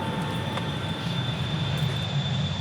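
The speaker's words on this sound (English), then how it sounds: "As the plane takes off," A passenger airplane taking off, heard as a steady, fairly loud engine roar with a high whine held throughout and a low rumble beneath, no voices present.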